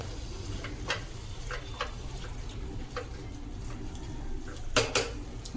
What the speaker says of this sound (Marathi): तर ढवळून घेऊया